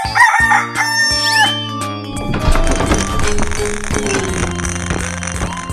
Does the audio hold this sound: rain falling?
no